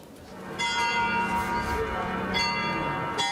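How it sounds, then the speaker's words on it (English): Church bells toll in Prague during mourning, a loud ringing peal with repeated strikes about a second apart and sustained overlapping hum between them. "The silence broken by the tolling of bells."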